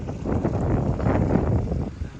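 Strong wind buffets the microphone in low, rumbling gusts, loud and close, with a faint hint of a voice underneath, in St. Augustine, Florida.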